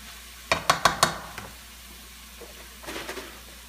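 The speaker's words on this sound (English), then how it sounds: "I'm gonna mix these up" Portobello mushroom fajita mixture stirred in a pan: four quick close scrapes in a row, then a softer cluster of stirring sounds after a pause, with no talking.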